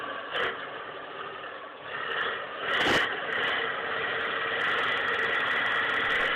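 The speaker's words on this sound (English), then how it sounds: "As the K700's engine roars to life, it pulls forward with immense strength." K700 Kirovets heavy tractor engine during a mud recovery, a loud steady mechanical roar with a rise in revs and a sharp squeal partway through, heard close and without talk.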